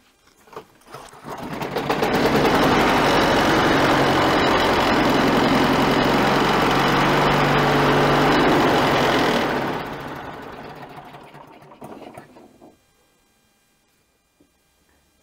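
Briggs & Stratton Quantum small engine, just repaired for a no-start problem, runs steadily and loudly on test for about eight seconds, then drops off and winds down to silence.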